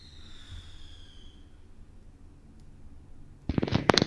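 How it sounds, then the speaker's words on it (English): Fireworks go off outside, heard indoors as a quiet stretch that ends in a burst of sharp, loud crackling pops and bangs over the final half-second. "Sorry, fireworks."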